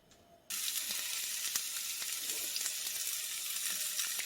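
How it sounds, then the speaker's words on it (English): Vegetables hit a hot pan for chorizo stuffed sweet potatoes, bursting into a loud, steady sizzle after a brief quiet start, with crackling pops throughout and no voices. "It's hot. Let's go ahead and add our vegetables."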